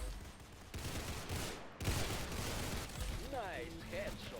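Rapid gunfire bursts ring out in the Roblox Arsenal shooting game, loud and close, with a sharp crack partway through and a whooshing sweep near the end.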